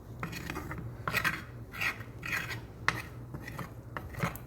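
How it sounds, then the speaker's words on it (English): A metal utensil scrapes and stirs across the bottom of a pan while making Salisbury steak with gravy, giving repeated rasping strokes at a steady, close, moderate level with no talking. "scraping the bottom of the pan to make sure all of the ingredients is good"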